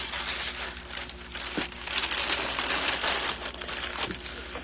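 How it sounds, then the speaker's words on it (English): Sheet of paper peeled off and crumpled by hand in a woodshop, a steady crinkling rustle with a few sharper crunches, close and moderately loud, no talking. "I'm going to remove this paper"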